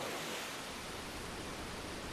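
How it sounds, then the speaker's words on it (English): A waterfall in the video game Dragon Quest V, a steady rushing hiss that stays even and fairly faint throughout, with no voices. "Straight off a freaking waterfall."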